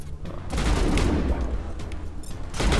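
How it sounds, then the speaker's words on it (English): Gunfire in the Mass Effect Legendary Edition video game, a dense, sustained burst of shots aimed at the player, loud and continuous with heavy low booms throughout. "whoever that is shooting me in the back"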